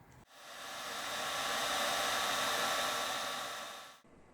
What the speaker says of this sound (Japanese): ドライヤーで加熱しながら貼っていきましょう。